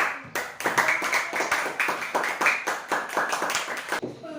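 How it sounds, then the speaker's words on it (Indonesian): A classroom gives group 3 a round of applause: steady, fairly loud hand claps from several students, close by, lasting about four seconds before stopping abruptly. "Oke, kita beri tepuk tangan dulu kepada kelompok."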